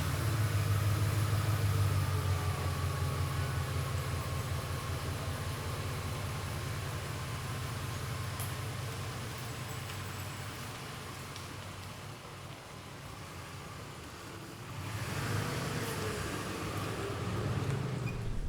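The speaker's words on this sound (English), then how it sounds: "first drive of the new engine in the truck" A pickup truck with a Ford 5.4L 3V engine runs steadily with a low rumble, dipping slightly in the middle before swelling louder again near the end.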